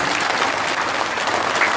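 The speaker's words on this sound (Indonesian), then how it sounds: "tepuk tangan untuk Aziza" Crowd at an outdoor political rally on a field clapping for a performer, a loud, continuous burst of dense applause that stays level throughout the short stretch.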